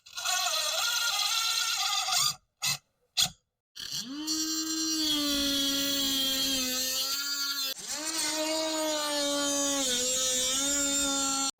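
A drill drives 2-inch self-drilling fasteners into fiber cement board on a balcony or deck, a close, loud motor whine that pitches up and down, cut by brief pauses before two long sustained runs.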